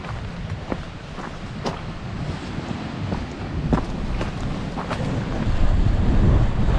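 Strong cold wind blowing on the Aegean coast, roaring and buffeting against the microphone in a continuous low rumble that swells louder toward the end, with a few sharp knocks.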